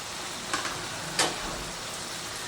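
Fried broccoli drops into a sizzling spice paste in a pan, giving two short bursts of crackling over a steady frying hiss, close and moderately loud.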